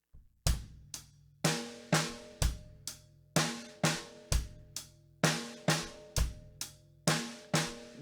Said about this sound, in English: there is going to be double snare drum